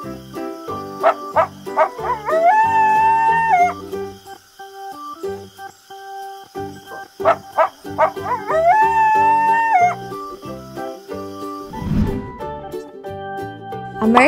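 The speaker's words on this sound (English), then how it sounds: "Coyote." A coyote howls in long rising, wavering calls, two main howl bouts with yips and short barks between them, loud and close, over a musical backing.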